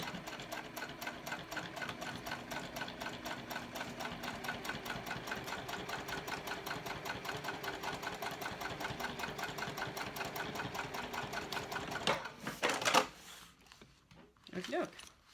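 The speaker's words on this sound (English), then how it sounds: "now I'm just going to top stitch across this top piece, this top area." A sewing machine top stitching across a mini backpack, running in a fast, steady, close rattling rhythm for about twelve seconds before stopping, then brief handling noises.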